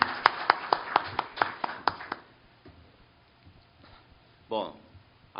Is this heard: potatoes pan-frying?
no